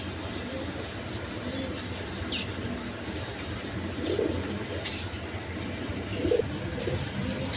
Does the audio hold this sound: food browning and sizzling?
no